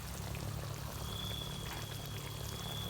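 Coconut cream being poured into a pot of catfish curry with green papaya-like pods (pheka), giving a steady, continuous liquid pour with a soft bubbling hiss, close and fairly quiet, with no talking.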